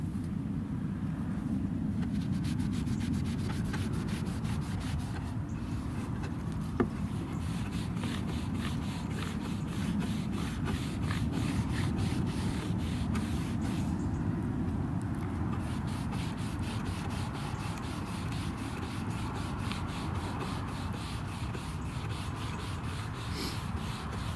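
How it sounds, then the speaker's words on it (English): Light hand rubbing down of the finish on a homemade guitar, a steady, continuous scrubbing hiss that runs unbroken for the whole stretch with no talking. "a nice bit of light rubbing. Bring it off."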